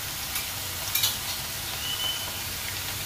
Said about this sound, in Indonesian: Kita tumis pertama itu adalah bawang putih ya.